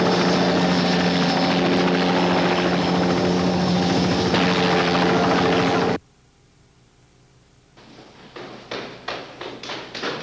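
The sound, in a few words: police helicopter flying overhead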